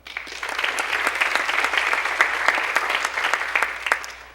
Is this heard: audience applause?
yes